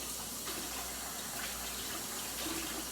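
Tap water runs steadily into a pan being washed at a kitchen sink, a continuous close gush and splash with no voices.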